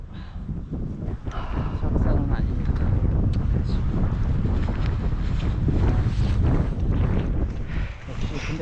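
Cold wind gusts across the Maldeung Rock lookout on the ridge of Chiaksan mountain, buffeting the microphone with a loud, steady low roar that swells around the second mark and holds throughout.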